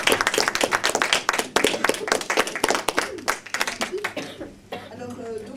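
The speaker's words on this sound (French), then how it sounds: "On l'applaudit bien fort." An audience at an indoor stage show applauds for Béatrice Dominguez with brisk, close clapping that thins out toward the end as a voice begins speaking.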